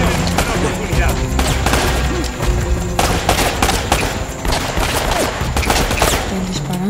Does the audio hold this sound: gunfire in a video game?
yes